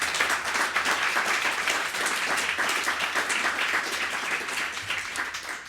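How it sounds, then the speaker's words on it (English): A conference audience at a city finance session breaks into steady, sustained applause, dense clapping filling the room at even loudness throughout. "Round of applause, if you may."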